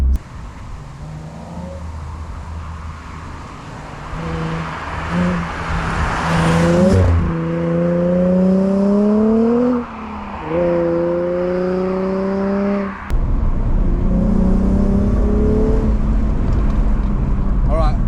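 A 2004 Nissan 350Z engine revs hard several times through the exhaust, rising in pitch with each pull and dropping between gears, loud and close throughout.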